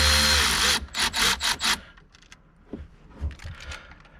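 A power tool loosens a nut on a Mitsubishi Evo X steering wheel, whirring loudly in several quick bursts before falling away to light clinks and handling noises of parts close by.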